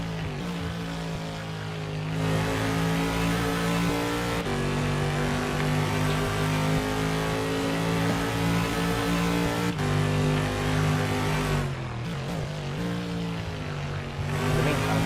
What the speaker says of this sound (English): With a good listen to his car and see how he is tackling this circuit.